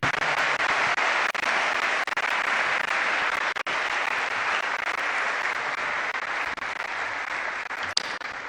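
Sustained audience applause following a formal speech at a ceremony in the Democratic Republic of Congo, dense even clapping that holds steady for several seconds and stays fairly loud.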